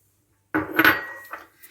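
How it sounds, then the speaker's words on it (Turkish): A spoon clinks and scrapes inside a pot, stirring a cocoa and milk pudding mixture in a short burst of clatter that starts suddenly after silence and then fades. "Şimdi hepsini güzelce karıştıralım bakalım değerli kardeşlerim"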